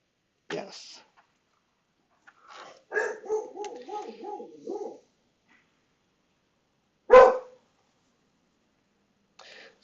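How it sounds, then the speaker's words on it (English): Pet dogs bark indoors in short bursts: a single bark, a run of rapid yaps, then one loud sharp bark and a faint final one, separated by silence. "Sorry about my dogs barking."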